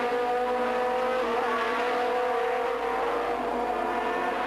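1985 Formula 3000 race cars run at speed on a drag toward a chicane, a loud, continuous high-revving engine howl with steady pitch and a slight rise midway.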